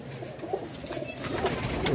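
Teddy pigeons coo softly, with low repeated coos set against a busy, noisy loft background, near and continuous for a couple of seconds.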